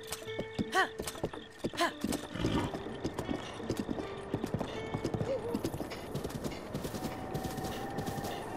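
Horse hooves clip-clopping in The Legend of Zelda: Breath of the Wild, a steady rhythmic trot of close, distinct hoofbeats over game ambience, with a brief whinny-like sound early on.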